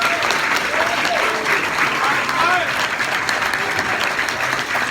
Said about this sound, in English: Let's give you a round of applause.